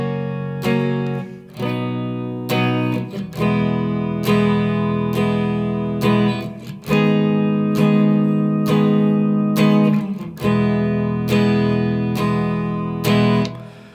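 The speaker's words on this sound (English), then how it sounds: "I'm playing on electric guitar just so we can rock it up a bit from the second verse" Electric guitar playing the first verse of a song, loud strummed chords with sustained ringing tones and rhythmic changes, played alone with no talking.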